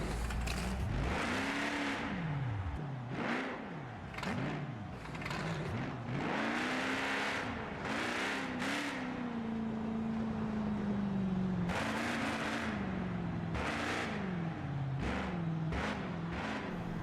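A monster truck engine roars and revs repeatedly while the truck crushes a stack of cars at a Milwaukee monster truck show, loud and close with rising and falling throttle bursts throughout.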